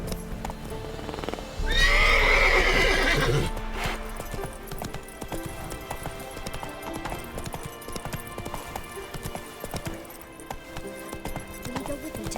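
Roach, the horse in The Witcher 3 game, gives a loud, close whinny and then keeps up steady clip-clopping hoofbeats under faint game ambience.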